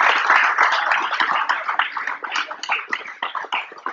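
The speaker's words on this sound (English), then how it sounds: "So can we all give them a round of applause?" An audience at a MOB Summit event gives a round of applause, an uneven patter of clapping that starts full and then thins into scattered, pulsing bursts.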